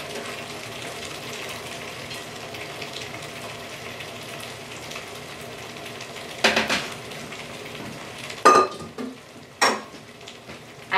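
Cauliflower cooks in a hot pan on a stovetop burner, giving a faint steady sizzle with a few sharp clanks of a utensil against the pan near the end.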